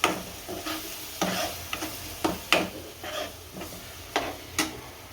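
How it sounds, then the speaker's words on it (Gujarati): Rajasthani gatte ki sabzi with yogurt stirred in a pan, a series of irregular spoon scrapes and clacks against the pan over a soft sizzle, close and moderately loud, with no talk. "અને હલાવી નાખશું સારી મેળવી નાખશું સારી"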